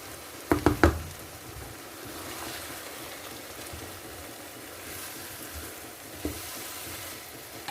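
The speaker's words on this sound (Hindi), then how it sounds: "आलू हमने ऐड कर दिए हैं इसके अंदर। तो इसको हम अच्छे से मिक्स करते हैं।" Potatoes frying and stirred in a pan for aloo bhujia, a few sharp knocks of a spoon against the pan at the start, then a steady soft sizzle with light stirring scrapes, close and without speech.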